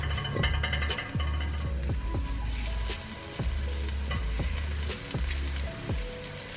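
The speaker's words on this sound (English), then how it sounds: "with my hands, I'm literally just going to crush it into the pan" Tofu crushed by hand into a hot frying pan for a scramble, a continuous loud sizzle with repeated soft thuds and crackles as pieces drop in, no talking.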